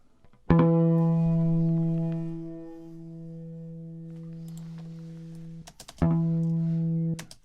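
Two bright, bell-like sampled guitar harmonic notes (flageolets) ring out and sustain, slowly fading, with a short gap and faint handling noises between them.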